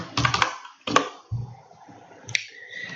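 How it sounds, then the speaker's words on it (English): Keys clatter on a computer keyboard as a search phrase is typed, a few quick bursts of clicks in close succession with quiet gaps between, close and moderately loud. "after I type in wedding Singapore, I could click on all keyword ideas"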